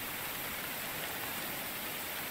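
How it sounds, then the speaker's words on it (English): Rain in the Card Survival Tropical Island game falls as a steady, even hiss of downpour, with no other sounds over it. "Maybe we can get this rain to stop."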